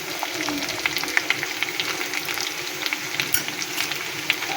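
Ginger garlic paste sautés with tomatoes in a hot pan, a constant sizzle broken by frequent sharp spatula taps and scrapes, close and fairly loud, with no one speaking.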